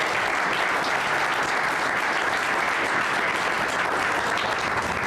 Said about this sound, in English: Let's give Senator Biss another round of applause